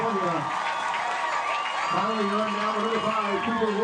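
A high school football crowd at a California vs Versailles game cheers after a big completion, a broad roar sitting under a commentator's voice that talks throughout.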